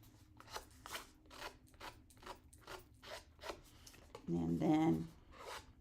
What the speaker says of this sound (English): I'm going to just rough up the edges here with my scissors to give it a little bit of